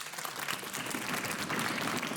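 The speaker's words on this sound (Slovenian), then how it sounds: "Čestitke, en aplavz torej" Brief applause from a school quiz-show audience, dense clapping heard at moderate distance for a couple of seconds, fairly quiet overall.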